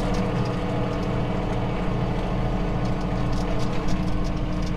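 John Deere 3033R compact tractor engine running on hand throttle, heard from inside the cab as a steady, loud droning rumble with faint mechanical rattles, no voices.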